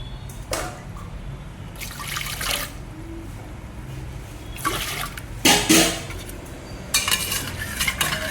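Water is poured into a cooking pot during lunch preparation in several short, splashing bursts separated by quieter stretches, each gush sounding close and moderately loud.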